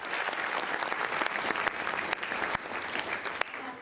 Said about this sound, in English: can we have another round of applause for Rajshri?